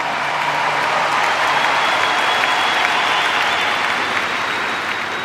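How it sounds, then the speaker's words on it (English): A large crowd at a memorial gathering applauds in a steady, dense roar of clapping that holds at full strength throughout. "This is a big crowd."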